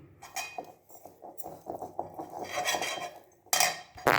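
A utensil stirs a milk mawa mixture in a pot, making irregular scraping and clinking against the metal with sharp knocks near the end, close and moderately loud, no talk.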